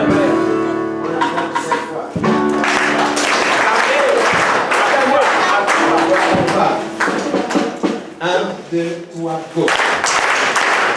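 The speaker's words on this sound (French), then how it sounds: "Acclame 4 fois." Church congregation clapping in loud, dense bursts during a worship service, mixed with music and voices calling out.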